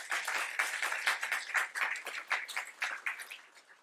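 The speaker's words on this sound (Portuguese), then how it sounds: "Uma salva de palmas, por favor." Modest round of audience clapping after a presentation in a technical conference session, individual claps audible in a loose uneven rhythm, fairly quiet and thinning slightly toward the end.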